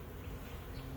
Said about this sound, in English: it looked like it had a fair number of bees on her